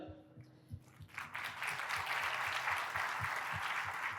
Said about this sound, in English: Let's have a big round of applause for all the participating volunteer physicians and medical